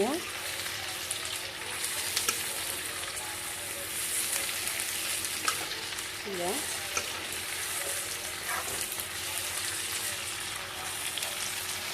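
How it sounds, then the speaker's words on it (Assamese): Onion frying in a pan for a duck recipe, with a continuous loud sizzle and regular stirring scrapes, plus a brief faint voice in the background partway through. "দেখিছে মই পিঁয়াজটো এনেকৈ ভাজি আছোঁ"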